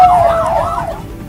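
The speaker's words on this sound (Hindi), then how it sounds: "पूरे इलाके में सायरन की आवाज गूंजने लगी।" A wailing emergency siren rises and falls in pitch, loud and steady over a low rumble of traffic.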